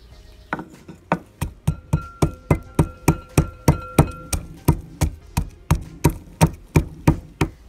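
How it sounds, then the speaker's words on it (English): Garlic pounded with salt into a paste makes about twenty steady, evenly spaced hollow thuds, close and clear with no talking. "So I'm gonna grind this up into a paste, and the salt is gonna help me make the garlic into a paste."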